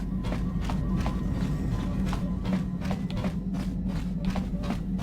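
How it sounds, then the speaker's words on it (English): Footsteps in the Knights of the Old Republic game echo from the Ebon Hawk's cargo hold, a steady run of evenly spaced taps over a constant low ship hum, with no talking. "You hear footsteps. They sound like they're coming from the cargo hold."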